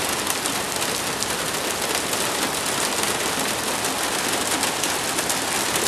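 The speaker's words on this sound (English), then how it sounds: "and it is raining" Steady rain falls on a Sunday, a dense, even hiss of drops on surfaces that holds at a constant level throughout, with no voices.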